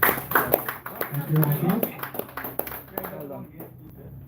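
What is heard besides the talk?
audience applause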